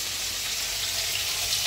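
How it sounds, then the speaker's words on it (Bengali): Fish frying in a pan of hot oil in a home kitchen, a steady dense hiss and crackle without break, moderately quiet and close, with no talking. "এখানে মাছ ভাজা হচ্ছে,"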